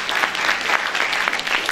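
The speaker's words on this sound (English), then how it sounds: "Let's have a warm round of applause for him and his memory" Sustained applause from a crowd, steady and fairly loud, with dense overlapping claps throughout.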